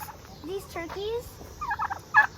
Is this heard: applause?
no